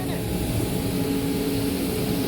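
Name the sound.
leaf blower used while cleaning an Italian street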